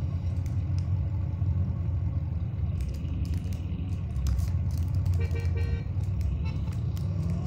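Engine of a very fast car in a video game with a deep truck-like rumble, a steady low growl that swells as it revs, loud and close, with faint talking.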